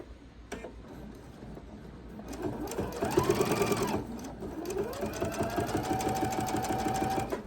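A sewing machine stitches binding onto a quilt in a steady rapid whir, starting after a brief tap and running continuously with a faint whine, close and fairly quiet, with no talking.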